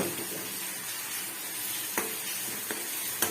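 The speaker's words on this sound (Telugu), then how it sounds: "ఇది మన వెల్లుల్లి పేస్ట్ ఇట్లా మగ్గాలి" Garlic paste frying in a pan while pickling lemons, a steady close broadband sizzle with a few sharp spatter pops toward the end, no talking.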